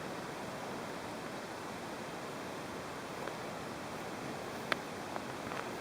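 Athabasca Falls and the Athabasca River in winter, heard from the cliff edge above the canyon: a steady, broad wash of rushing water, unbroken throughout, with a couple of faint brief clicks near the end.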